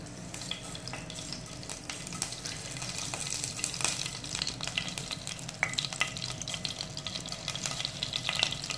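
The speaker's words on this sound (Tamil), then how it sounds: "கடுகு நல்லா பொரிஞ்சிருச்சு." Mustard seeds splutter in hot oil for a Tamil fish curry, a faint steady sizzle scattered with small crackles and pops, quiet and close with no voices.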